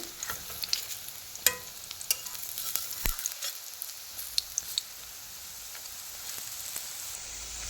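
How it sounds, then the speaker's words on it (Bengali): Turul fritters (bora) deep-fry in hot oil, giving a continuous crackling sizzle broken by occasional clinks and scrapes as they are turned, close and without talk. "ভালোভাবে উল্টো পাল্টে তুলে উল্টো পাল্টে দেওয়া হচ্ছে ভেজে নেওয়া হচ্ছে"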